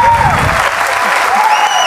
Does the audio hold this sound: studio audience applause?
yes